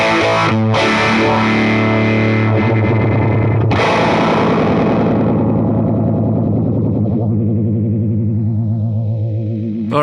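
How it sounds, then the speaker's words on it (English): A guitar played through a Catalinbread Bitters multi-effects unit with distortion, dual phaser and frequency modulation in series, loud fuzzy chords swirling and warbling, with sharp re-strikes near the start before a long sustained note slowly decays. "So the order of the signal is distortion, dual phaser, and then the frequency modulation."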